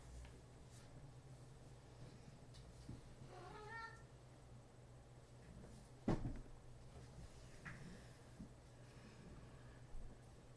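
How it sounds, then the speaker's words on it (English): A house cat meows faintly in a quiet room. One soft rising meow comes through, followed by a short bump like a cupboard or drawer closing and a few small household noises. "What's up, cat?"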